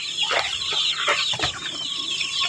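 Young chicks newly moved into a backyard range cluck and cheep in quick, scattered bursts, several birds calling close by with no talk.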